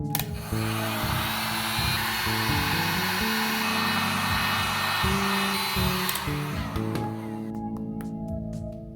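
A hot-air heat tool blows steadily to cure sculpted clay on a Baby Alive doll, a loud continuous whirring hiss with slight pitch shifts that cuts off shortly before the end.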